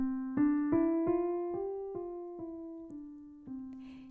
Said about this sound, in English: in a major scale, you'll hear that it sounds kind of light and cheerful.